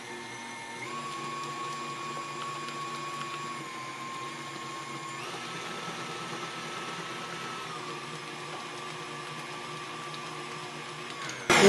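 An electric hand mixer whirs steadily as it beats cake batter with granulated sugar for an iron skillet pineapple upside-down cake, a continuous close motor hum with a slight pitch shift midway and no talking.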